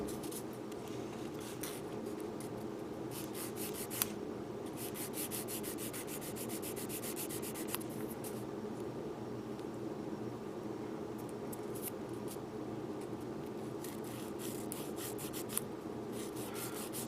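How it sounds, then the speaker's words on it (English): A 400 grit sanding stick is rubbed slowly over a plastic Gundam model kit part with a steady, quiet scratchy rasp that repeats in short strokes, close to the microphone and with no speech. "now I'll take my 400 grit sanding stick and just slowly clean that up"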